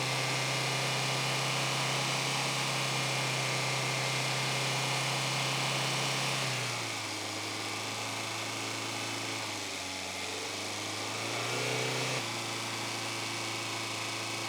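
A car's radiator cooling fan whirs in a steady, loud drone over a held, raised engine idle on an overheating engine; the tone dips and shifts for several seconds midway before returning.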